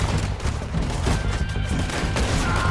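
A repeater rifle fires during a Red Dead Redemption 2 train robbery, with a dense, loud run of gunshots and booms from the gunfight and no talk.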